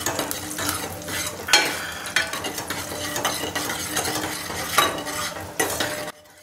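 Dates fry in a pan while being stirred, a constant sizzle broken by repeated scraping and clinking strokes of a utensil against the metal, close and loud, stopping abruptly at the end.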